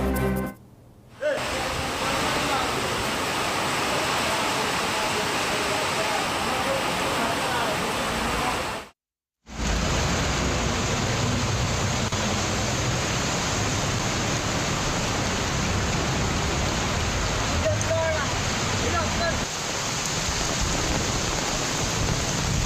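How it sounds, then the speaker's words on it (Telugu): Heavy rain whips down with gusty wind in the Jeedimetla and Secunderabad areas of Hyderabad, giving a dense, continuous roar broken by two brief cuts. "జీడిమెట్ల, సికింద్రాబాద్ ఏరియాలో ఈదురు గాలులతో కూడిన వర్షం కురిసింది"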